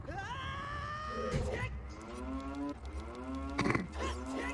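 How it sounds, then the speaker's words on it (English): Repeated long, loud cow moos from Ocarina of Time, with drawn-out, harmonic lowing calls that fall in pitch and overlap a steady background hum, while people talk faintly underneath. "Oh, now I hear the mooing better."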